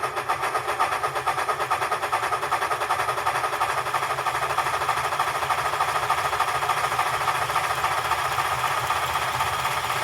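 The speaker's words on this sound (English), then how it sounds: "You may also notice you can hear some steam engine idling sounds." Steam locomotive idling chuff from a Blue Nami sound decoder in a model train, a steady close rhythmic mechanical chugging that runs unbroken from start to finish.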